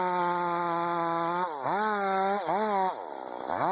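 A chainsaw cutting into a big tree during felling drones loudly and steadily, dipping in pitch each time the chain bogs down in the wood and then revving back up.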